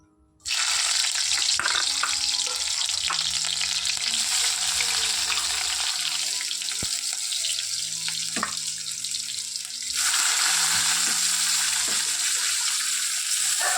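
Potatoes fry for chowmein in a home kitchen pan, giving a loud, continuous close sizzle that dips briefly near the end and then surges again, with faint knocks underneath and no speech.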